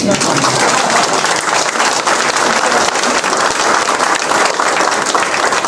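A crowd at a Democratic Party campaign office opening in Yeonggwang claps in sustained, loud applause, with a voice faintly audible beneath.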